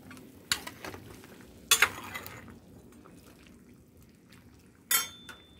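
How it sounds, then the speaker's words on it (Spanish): Seasoned chicken frying over a wood fire being stirred, with a few sharp utensil scrapes and clanks against the pan spaced apart over a low, steady sizzle. "Ahorita lo vamos a revolver bien."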